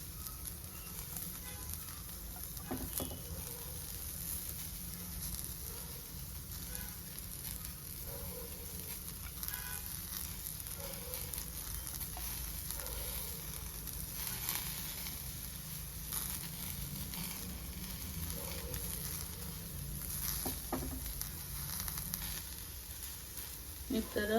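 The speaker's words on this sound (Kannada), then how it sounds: "ಫಸ್ಟ್ ಹಂಗೆ ಫ್ರೈ ಮಾಡಬೇಕು, ಆಯಿಲ್ ಹಾಕ್ಬಾರ್ದು" Bitter gourd slices dry-frying in a pan without oil, a faint, steady hiss and crackle that runs unbroken throughout, with a few soft taps and no clear talking.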